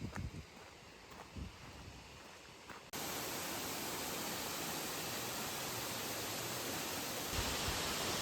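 Waterfall beside a levada walking trail on Madeira in winter: after a few quieter seconds, a steady, dense rushing roar of falling water sets in abruptly and stays loud and close.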